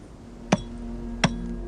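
A hammer strikes a pick or chisel into a stone block to split it, giving two sharp, ringing metallic blows about three-quarters of a second apart, close and clear against a quiet background.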